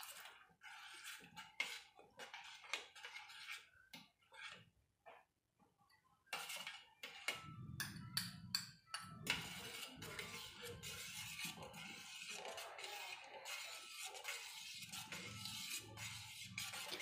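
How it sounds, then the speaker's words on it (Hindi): A spoon stirs hot sweetened milk in a pot for a custard trifle, scraping and clinking against the metal in close, irregular bursts separated by short quiet gaps. "मुसलसल चम्मच हिलाना है, नीचे ना लगे।"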